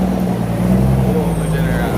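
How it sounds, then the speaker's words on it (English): A motor vehicle passes close by on a road in Jamaica, a loud, brief engine rumble that swells and fades over a couple of seconds while someone talks. "You have to wait for the vehicle to pass."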